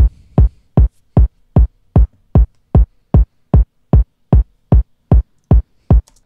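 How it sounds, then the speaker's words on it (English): Kick drum in a steady four-on-the-floor pattern for a beat, about sixteen booming, evenly spaced hits with deep low end, loud and alone. "First thing here is just this kick, and, yeah, just a 4-on-the-floor pattern."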